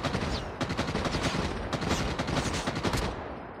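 Rapid automatic gunfire from a Call of Duty Mobile battle royale match, loud and sustained for several seconds, with dense overlapping shots in a continuous burst and no voices.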